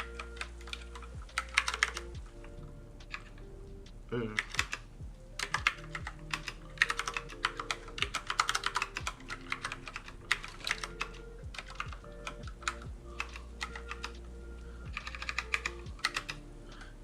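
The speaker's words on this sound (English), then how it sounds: "Okay, I gotta type this." Rapid, uneven typing on a Moonlander Mark 1 split mechanical keyboard, with clusters of crisp key clacks and short pauses continuing throughout, close and clear, with a brief murmured exclamation.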